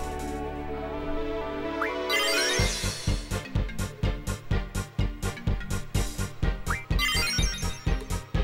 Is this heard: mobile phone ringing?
yes